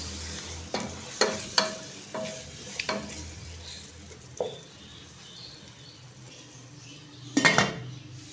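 Spoon stirring minced meat and peas in a metal pot, with several sharp clanks against the pot over a quiet sizzle and a final louder scrape, heard up close without talk.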